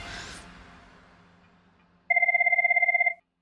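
A telephone rings in a single loud, steady electronic burst of about one second, following a quiet stretch of fading room tone, with no talk over it.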